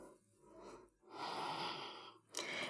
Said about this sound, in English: Keep taking deep breaths.